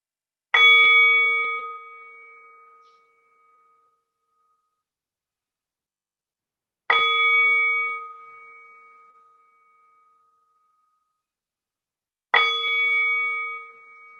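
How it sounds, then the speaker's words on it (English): A meditation gong struck three times at long, even intervals, each stroke ringing out bright and clear before fading slowly into silence. "sound of the meditation gong now starting and then fading away"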